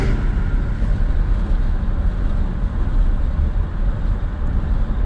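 A 1996 Chevy S10 pickup with a 4.3 engine and Holley Sniper injection pulls under half throttle through second gear, a steady loud in-cabin engine drone with road rumble and no talk.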